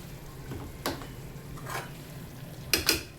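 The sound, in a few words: snails being fried in a pan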